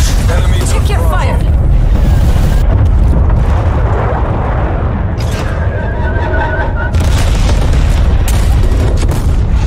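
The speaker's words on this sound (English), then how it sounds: "Enemy cruise missile launch detected." Cruise missile strike in Call of Duty Cold War on a Domination match: loud, continuous booming blasts and rumbling with gunfire crackle, a brief quieter dip midway, voices heard amid the din.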